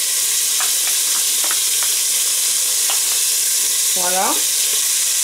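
Bacon lardons, about 200 g, fry in olive oil with a steady, loud, dense sizzle throughout. A few light stirring scrapes come through, and one short spoken word is heard near the end.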